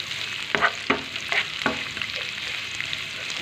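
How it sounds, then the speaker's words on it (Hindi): Chopped onions fry in a pan with a continuous soft sizzle, punctuated by four or five sharp scrapes and taps of a spatula stirring them in the first half, close up with no talking. "प्याज कटी हुई डाल देंगे। और इसको ही अच्छे से भून लेते हैं"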